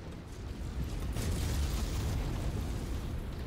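Mech blowing up in the video game MechWarrior 5, a deep rumbling explosion that swells and holds as a sustained low roar, fairly faint overall, with no talk.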